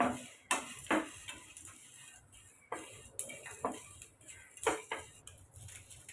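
Whole spices for a mutton masala, fennel, cardamom, crushed nutmeg and black pepper, being dry-roasted in a pan, with a series of sharp metallic scrapes and taps of a spoon against the pan at an uneven rhythm, fairly quiet and close.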